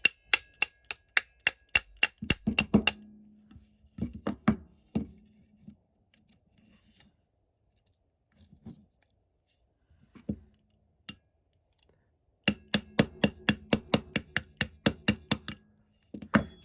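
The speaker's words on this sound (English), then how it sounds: "you may have to use your nylon hammer again" Sharp taps on AR-15 trigger pins with a nylon hammer come in quick runs of evenly spaced, crisp knocks at the start and end, with sparser scattered clicks and quiet gaps between.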